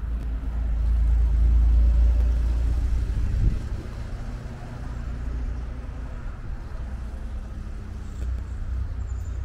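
An open-top 1963 Chevrolet Corvair, running roughly after decades off the road, drives in first gear with a low, steady engine rumble that swells early and then settles into a constant close drone.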